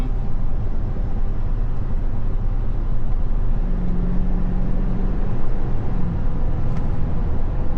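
A 2024 GMC Sierra 3500 Denali pickup with a 5-inch lift cruises along, a loud, constant low road and engine roar with steady tire and wind noise throughout.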